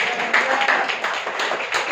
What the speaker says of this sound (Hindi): थोड़ा ताली वाली बजा दो यार